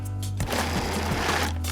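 A food processor whirls cannoli filling made with vanilla, salt, cinnamon and powdered sugar, a loud steady motor whir heard close up in one short continuous burst.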